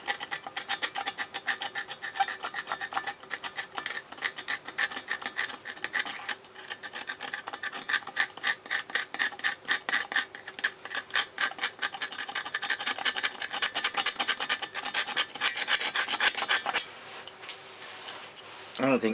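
A screwdriver scrapes and rasps against the valve of an old Lister D stationary engine, a dense run of quick, close scratching strokes that continues steadily and then stops near the end.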